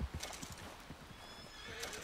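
A horse in Red Dead Redemption 2 whinnies in a quick, close burst while hooves clip-clop underneath, all within a couple of seconds and with no talk.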